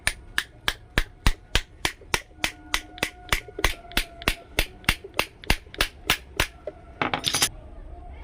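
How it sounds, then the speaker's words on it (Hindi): A commercial mixer jar's shaft is tapped into place with about twenty evenly spaced, sharp metallic knocks, followed by a short rattling clatter at the end. "हल्का हल्का से ठोक कर इसे अंदर कर देंगे"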